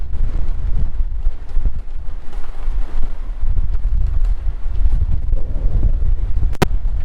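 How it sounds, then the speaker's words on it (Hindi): Strong wind buffets the microphone aboard a ship, a loud, continuous rumbling roar with gusty swells and a sharp click near the end. "चेक कर पा रहे हो कितनी तेज़ हवा चल रही है यहाँ पे।"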